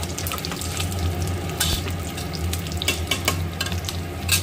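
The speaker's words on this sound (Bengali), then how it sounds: "দেখো জলটা দিয়ে আমি একটু নেড়ে চেড়ে নিলাম।" Water poured into a simmering raw banana curry with ground black pepper and stirred in the pan, giving a dense continuous bubbling sizzle with scattered scraping strokes, close and steady.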